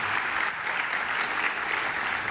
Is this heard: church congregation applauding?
yes